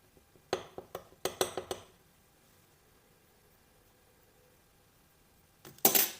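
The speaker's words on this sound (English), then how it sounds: "I'll mix this together before adding the other ingredients." Snack ingredients being mixed in a bowl: a quick run of sharp clinks and taps of a utensil against the bowl, then a long quiet stretch before a short, louder scraping burst at the end.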